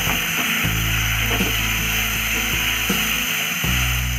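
Prawns fry in spicy masala in a pan, giving a steady close sizzle with a low rumbling hum beneath and a few soft scraping, stirring sounds.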